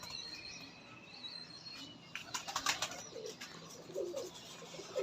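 Pigeons in a breeder's loft give low, soft coos near the end, with wing flaps and faint chirps among steady background noise; no one speaks.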